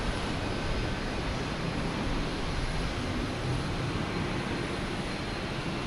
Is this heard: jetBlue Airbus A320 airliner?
yes